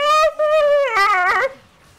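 A person imitates a young dog whimpering with a high, wavering, nasal whine that rises and falls in a couple of close, loud bursts before fading out.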